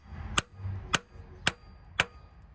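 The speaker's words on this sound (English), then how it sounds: "come back, get our hammer, and tap it very light" Four light, evenly spaced hammer taps on a size 30 socket seating the front main seal of a 2008 Saturn Vue AWD 3.5 engine, sharp metallic clicks close by with quiet shop background between.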